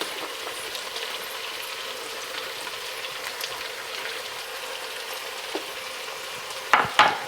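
Garlic, celery and onions frying in a pan, a steady soft sizzle with faint stirring, then a couple of sharper scraping clatters near the end; no voices.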